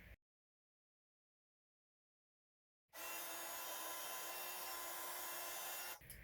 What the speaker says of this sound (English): I just want to heat emboss a sentiment onto this strip of black cardstock